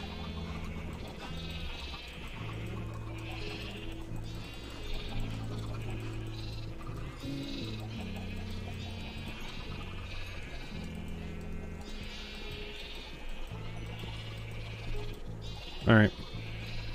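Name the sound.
sheep bleating in Minecraft video game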